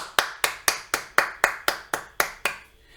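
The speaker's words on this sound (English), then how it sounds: "sounds really weird when I'm clapping when it's just me" One person claps their hands alone in a quiet room, about nine crisp, evenly spaced claps at a steady rhythm, close and clear, with no other sounds.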